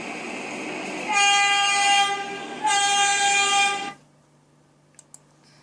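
An R143 subway car horn in the Trainz video game sounds two loud, harmonic blasts, each about a second and a half long with a short gap between them, and then cuts off to near silence with a couple of faint clicks.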